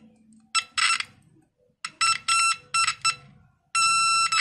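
A simple homemade alternative continuity tester, also usable for testing LEDs, gives short bursts of high electronic beeping, a few separate beeps and then a longer steady tone, close and fairly loud against a quiet background.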